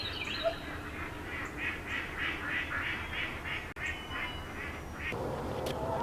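A duck out near a chicken pen in a winter garden quacks in a rapid series of calls at moderate distance, against quiet outdoor background.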